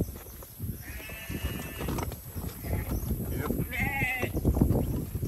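Sheep held in a pen while being sorted for breeding, with a couple of short bleats rising above shuffling hooves and rustling handling noise, close by and moderately loud.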